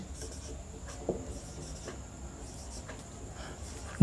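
Chalk or marker writing on a classroom board: soft, faint scratching strokes come in short bursts over low room noise, with one small knock near the start and no speech.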